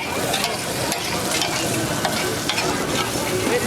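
Liver frying in oil at a Karachi street food stall in Jodia Bazaar, a loud, steady sizzle with stirring and scraping running throughout, close up and with no talk.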